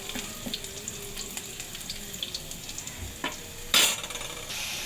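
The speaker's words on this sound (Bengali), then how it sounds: "এই জন্য সরিষার তেল দিয়ে ভাজতেছি।" Leafy greens frying in mustard oil in a home kitchen, a steady soft sizzle and stirring scrape running throughout, with a brief louder hiss of splashing water near the end.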